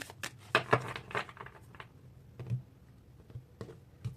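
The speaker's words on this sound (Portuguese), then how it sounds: "Embaralhar mais um pouquinho." Tarot cards being shuffled by hand, with soft, irregular riffling taps and flicks that come in short bursts and then pauses, close and quiet with no speech.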